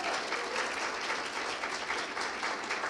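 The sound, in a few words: church congregation applause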